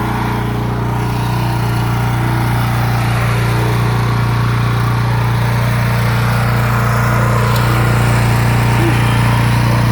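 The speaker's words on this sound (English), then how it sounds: "That's the PDR tiller, and then this is the BCS 739. Man, that's doing a nice job." A BCS 739 two-wheel tractor running a PDR tiller while breaking in a plot, a loud steady engine drone with a constant low hum, unbroken for the whole stretch and close by.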